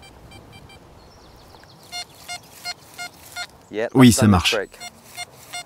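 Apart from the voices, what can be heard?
metal detector target signal tone from XP Deus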